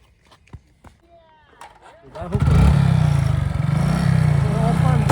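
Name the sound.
motorcycle running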